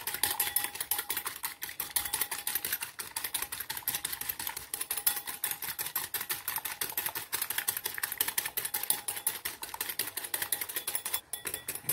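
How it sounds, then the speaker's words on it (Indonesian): Eggs and granulated sugar are whisked in a bowl in a fast, continuous run of light clinking taps that keeps an even rhythm throughout, close and fairly quiet. "lalu saya akan kocok ya seperti ini hingga dia gulanya larut"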